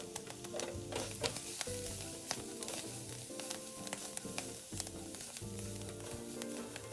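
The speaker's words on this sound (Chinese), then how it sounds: "将备好的蒜末也倒入，再加一点食用油，一起炒香" Minced garlic and preserved radish stir-fry in oil, giving a steady close sizzle with repeated scraping and tossing strokes throughout, no voices.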